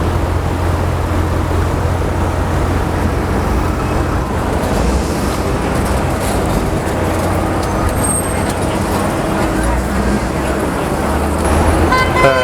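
Busy road traffic in Times Square rumbles steadily with engines idling and passing, a few car horn toots sounding over the din, and voices murmuring in the background.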